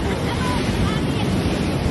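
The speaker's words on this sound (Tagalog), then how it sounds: "Lakas po ng alon." Strong ocean waves surge and break along a La Union beach, a steady loud broadband roar of surf mixed with wind buffeting the microphone throughout.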